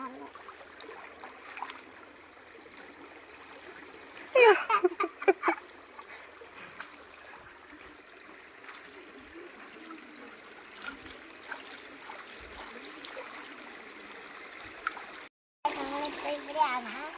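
Water trickles and flows steadily along a small village stream, a soft continuous babble throughout with a brief splashy burst partway, while people talk nearby over it.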